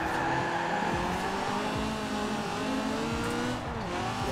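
A maxed-out 1970 Ford GT70 driving in Forza Horizon 4, with a continuous engine drone that shifts in pitch as it revs, and tire squeals and skidding layered over the top, steady and loud without speech.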